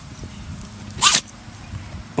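A virtual dog in the Dogz 9 video game gives a single short, sharp sneeze in the middle of a quiet stretch, clear and close.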